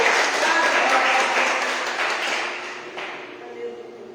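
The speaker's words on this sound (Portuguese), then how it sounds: "Aplauda aí o nome do Senhor." Church congregation clapping during a morning worship service, a dense wash of applause that is loud at first and then thins and fades, with a voice faintly underneath.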